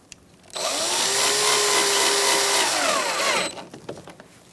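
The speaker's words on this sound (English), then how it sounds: "Now we can put our screws in." A power driver runs a screw in while a 2004-2009 Mazda 3 windshield washer reservoir is fitted, one steady whirring burst of about three seconds with slight pitch changes, then a few small clicks and handling noises.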